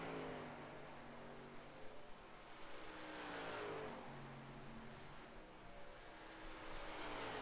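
A racing truck laps the oval at Dover in a truck-series session, its engine a distant, broad roar that swells and fades as it circles, with no talk.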